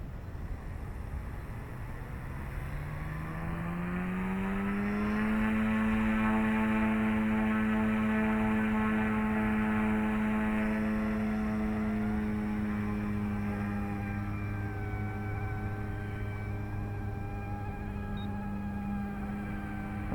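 A Yuxiang F150 RC helicopter spooling up in stabilized mode, its motor and rotor whine rising steadily in pitch over several seconds, then settling into a sustained close hum.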